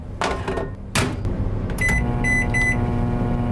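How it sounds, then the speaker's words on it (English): A microwave oven runs with a steady hum after a couple of clunks from the door or buttons, then beeps in short repeated tones near the end, all close and fairly loud. "When you stick your leftovers in the microwave"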